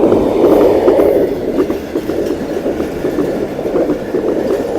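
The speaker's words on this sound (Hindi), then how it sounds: "ट्रेन आ चुकी है और ये भी गुज़र जाएगी" A train passes at speed at a closed railway crossing on a road trip near Rohtas Fort, a loud, steady rumble with faint rhythmic wheel clatter, heard close by and with no voices.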